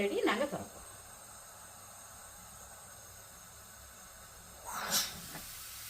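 Steam hisses from a puttu steamer cooking soft coconut puttu. A short hissing burst at the start is followed by quiet, then a second loud hiss near the end.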